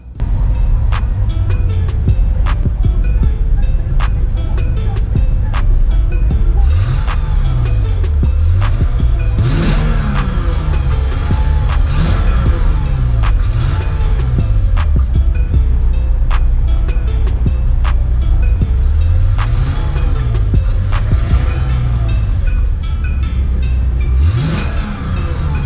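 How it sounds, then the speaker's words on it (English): A 2017 Lexus IS 300 F-Sport sports sedan with a V6 engine, revved repeatedly in a series of loud, rising and falling blips over a steady idle, all close by and without talking. "let's rev the engine and hear just how good that V6 engine actually sounds"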